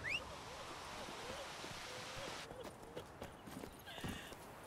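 Geralt's horse Roach from the video game The Witcher 3 trots with a steady, soft clip-clop of hooves over a low ambient hiss, with a brief snort near the end.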